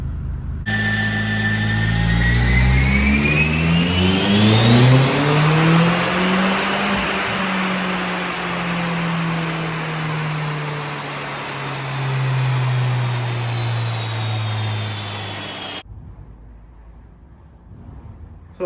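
A Seat Ibiza FR's 1.8T engine revs hard on a dyno, pitch sweeping up through the gears to a sustained high-rpm roar before winding down and cutting off, loud and close with no talking.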